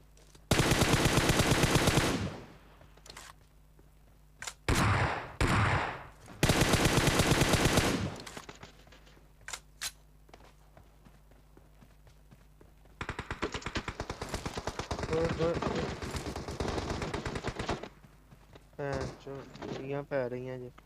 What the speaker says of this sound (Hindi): गोलियां पै रही हैं जी